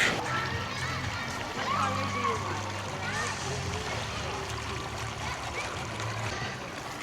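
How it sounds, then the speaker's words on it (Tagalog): Strong waves at Boracay beach roll in as a steady, loud rush of surf with splashing water throughout, and a voice is faintly present underneath. "Ayan, ang lakas ng alon, as in malakas."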